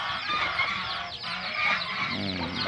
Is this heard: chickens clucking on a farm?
yes